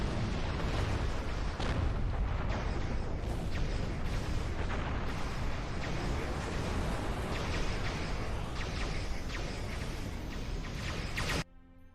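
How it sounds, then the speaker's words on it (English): Heavy artillery fire in the space game Star Trek Online, a dense, continuous barrage of loud booming blasts that runs almost without pause before cutting off abruptly near the end. "Man, that artillery!"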